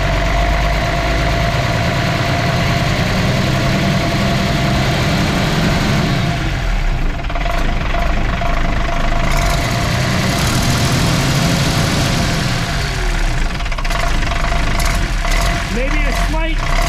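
School bus diesel engine idling steadily, a close, continuous low rumble with a faint turbo hiss, while people talk over it throughout.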